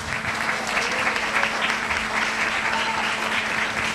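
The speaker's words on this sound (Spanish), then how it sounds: "un fuerte aplauso para Matías, artista invitado en esta noche" An audience at a music school's opening concert applauds a guest artist with steady, dense clapping. The clapping stays loud and continuous from start to finish without letting up.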